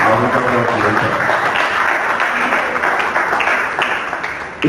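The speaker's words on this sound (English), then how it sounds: "we give the round of applause for our later" Audience applause at an engineering society monthly meeting, a dense, steady wash of many hands clapping close and loud, continuing without speech and tapering slightly at the end.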